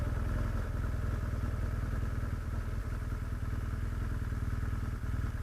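A motorcycle engine droning steadily on an off-road ride through the Everglades toward Clewiston, a continuous close rumble with light clatter and wind noise, no talking.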